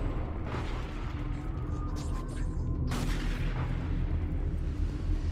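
Weapon fire in Destiny 2 on PS4 Pro, a dense, continuous rumble of booming shots and bursts, fairly loud and sustained throughout, with a stronger blast about midway and no voices over it.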